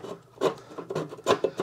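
A new piece of rubber hose on a Craftsman 19.5 hp riding mower is slid on and pulled through, making close, rough rubbing and scraping bursts in an irregular rhythm.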